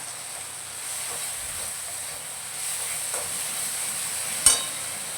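Green chili thecha fries in oil in a pan, giving a steady, even sizzle and hiss that runs throughout, with a soft clink of stirring near the end.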